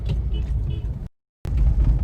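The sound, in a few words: car driving in traffic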